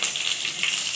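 Dried and green chillies with a spoonful of panch phoron spices frying in hot oil, a steady, close crackling sizzle with no voices.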